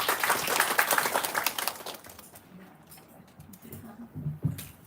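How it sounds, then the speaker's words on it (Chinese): Audience applause welcomes a professor at an elementary school bilingual open-class event, steady clapping that fades out within a couple of seconds before quieter room noise. "声欢迎玉兰教授"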